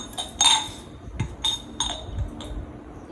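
A set of jars and their lids is handled, producing bright, sharp clinks and taps at irregular intervals, several distinct knocks close by with soft handling noise between them.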